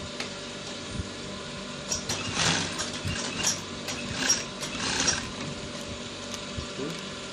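A sewing machine stitches a straight line on trousers, its mechanical clicking and whirring rising in irregular short runs over several seconds, close and fairly quiet, with no speech.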